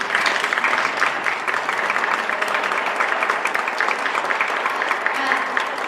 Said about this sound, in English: Give Gary a round of applause, please.